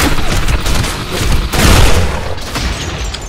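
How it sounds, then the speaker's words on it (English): Loud, rapid automatic gunfire from the Club SMG in a GoldenEye 007 total conversion mod, with bursts of shots and a booming swell midway, and no voices over the shooting. "introducing the Club SMG!"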